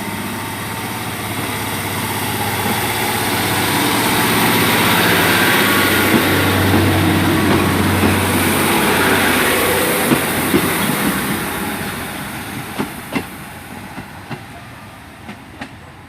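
A passenger train pulling out of Dawlish Warren station bound for Paignton, a steady engine hum and rumble swelling then receding, with rhythmic clickety-clack wheel beats over the rail joints toward the end.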